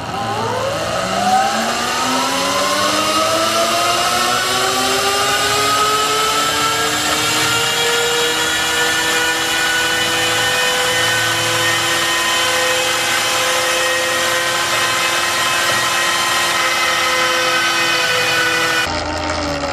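An e-bike motor runs hard on a dyno, a loud whine rising steadily in pitch as it spins up, then levelling off and holding before cutting out abruptly at the end.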